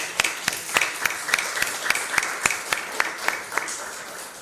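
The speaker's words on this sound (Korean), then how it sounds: "우리 하나님 앞에 감사의 박수 한번 드리도록 합니다" A church congregation at an anniversary Sunday worship service gives thanks with applause, a steady rhythm of sharp unison claps about three per second, moderately loud and reverberant.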